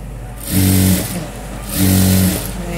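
A sewing machine stitches along a marked shape in fabric, running in two sustained bursts of motor hum with a brief pause between them, loud and close.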